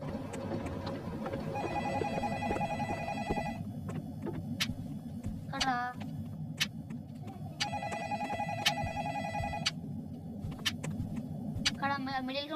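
A phone rings in a Roblox ghost hunting game, repeated electronic ring bursts with pauses between them over a steady background hum, while a player talks.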